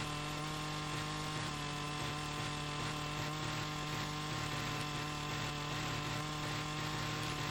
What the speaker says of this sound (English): We'll get out the Husqvarna chainsaw and we'll get to cutting.